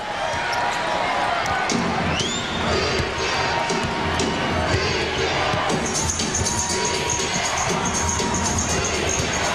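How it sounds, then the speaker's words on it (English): A basketball bounces on the court during a 1998 NBA Eastern Conference Finals game between the Chicago Bulls and Indiana Pacers, with thuds buried under loud crowd roar and cheering. "And the loose ball bounces to Jordan."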